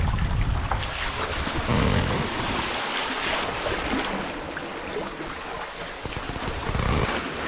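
A sailboat cruising at about six knots out of Puerto Penasco, with a steady broadband wash of water rushing along the hull and wind noise, continuous and fairly loud, with no voices.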